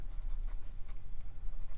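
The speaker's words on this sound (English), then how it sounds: "I can push down harder with my pencil." Watercolor pencil pressed hard on paper while drawing squiggly daffodil ridges, giving a close, continuous scratchy scribbling with quick rhythmic strokes.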